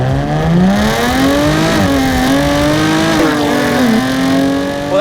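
A Jaguar F-Type sports car accelerates hard, its engine rising in pitch through the gears with brief dips at each shift, loud, close and continuous throughout.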